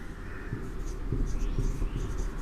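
Chalk or marker scratches across a board during a Hindi-language geography lesson on India's coastal plains, a series of close, soft strokes over a low room hum, with no voice.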